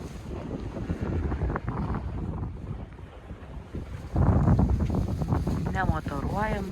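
Wind buffets a sailboat under sail on the Baltic crossing from Klaipėda toward Burgsvik, blowing steadily around 8 to 9, engine off and sails set on port tack; constant broadband rush with someone speaking over it.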